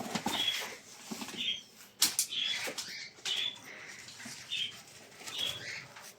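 A pair of pigeons at a farm coo softly and rustle their wings in short, scattered bursts, close by and fairly quiet, with no voices.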